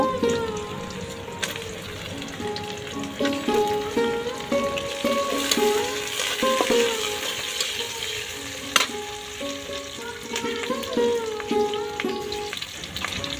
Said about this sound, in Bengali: এখন আমি দেখেন কাঁচামরিচ দিয়ে দিব।